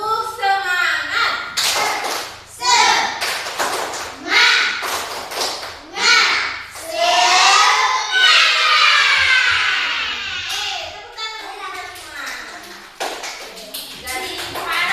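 A class of children does the 'tepuk semangat' clap routine, chanting loudly together while crisp claps land in rhythmic clusters, followed by a teacher speaking near the end.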